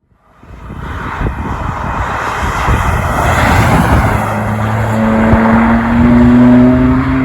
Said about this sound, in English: it's great to be finally driving a BMW M2 Competition myself